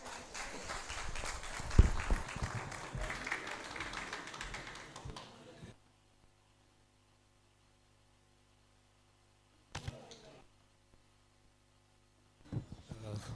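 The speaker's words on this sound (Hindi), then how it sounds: "तो आप सब की समातों के साथ मैं भरपूर तालियों में गुजारिश करूँगी मजहर लगारी साहब से।" Audience applause at a poetry recitation and book launch event, a dense burst of clapping lasting several seconds before falling to near silence, with a couple of brief, fainter sounds later.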